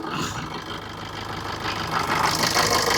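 A diesel vehicle with about 86,000 on the clock idles nearby, giving a steady low rumble with a faint knocking pulse that swells slightly toward the end.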